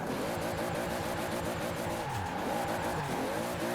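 Toyota Supra Mk3 race car in Forza Horizon 4, engine droning steadily at high revs with tires squealing through a clean drift, loud and continuous without any talk.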